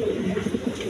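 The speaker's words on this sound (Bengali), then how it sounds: "এই যে দেখেন নটটা কীরকম ডাকে ফালাফালি করে" A male pigeon cooing inside a large cage, a close, steady throaty murmur filling the brief moment without pause.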